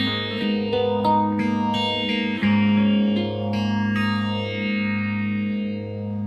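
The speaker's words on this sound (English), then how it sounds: "It's a beautiful vintage phase sound." Guitar played through a TC Electronic Blood Moon phaser pedal on nominal settings, chords and single notes swept by a slow, swirling vintage phase effect, loud and close with a ringing sustain.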